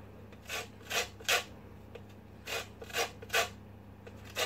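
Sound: grating lemon zest on a grater

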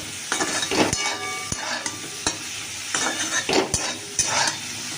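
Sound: brinjal frying with salt in a pan

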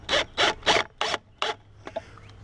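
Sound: drill driving a screw into a Yakima rack

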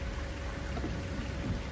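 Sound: thunderstorm with heavy rain

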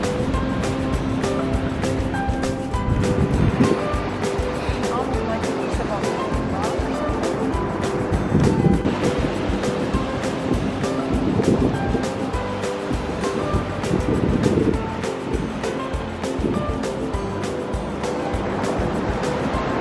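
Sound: ocean waves surf at the coast

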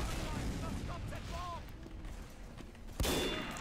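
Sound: sniper rifle shots in the video game Team Fortress 2

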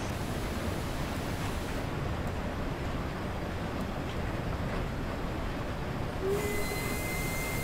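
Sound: steam locomotive blowing off steam, Train Sim World 3 video game

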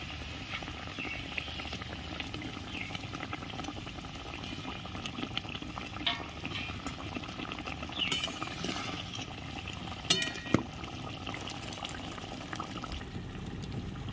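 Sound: gravy boiling with fried pabda fish added

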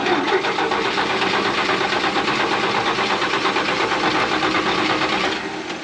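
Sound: 1968 GMC C4500 truck engine cranking, failing to start

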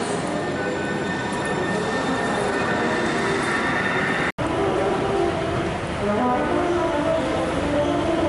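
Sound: subway train departing

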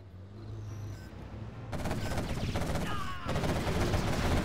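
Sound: quad cannon firing in real-time strategy video game

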